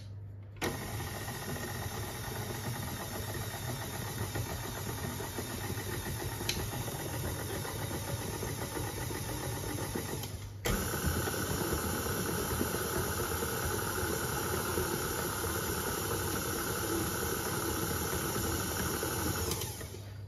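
An electric mixer whirs steadily through sponge cake batter, a constant motor hum with a slight hiss that steps up in intensity partway through as the speed is raised.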